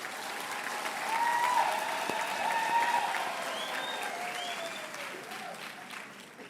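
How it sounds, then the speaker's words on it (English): Applause from a graduation ceremony crowd on the Vanderbijlpark campus, a broad wash of clapping that swells and then slowly fades, with faint voices and cheers mixed in. "Let's give them a round of applause"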